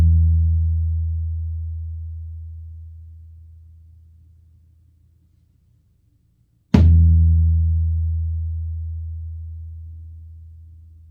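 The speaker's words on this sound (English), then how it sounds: "So that sounds like this on the floor tom." Floor tom with a texture-coated head, tuned and damped with gels: a deep, rounded boom fades slowly, then one fresh hit rings out again, loud and close with no talking.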